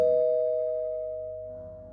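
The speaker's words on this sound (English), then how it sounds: "A few minutes into ringing the bell," One clear, ringing doorbell tone sounds at a house's front door, decaying slowly over two seconds with nothing else around it.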